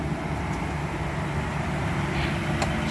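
A Mercedes 600SL engine with rebuilt throttles idles on a cold start, a steady low rumble with a broadband whoosh that holds even and continuous throughout.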